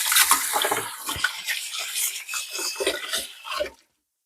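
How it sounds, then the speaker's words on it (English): Hands being rubbed and washed under a running tap, close and fairly loud, with scrubbing, splashing and rinsing for a few seconds before the water stops abruptly. "But I do like to wash my hands"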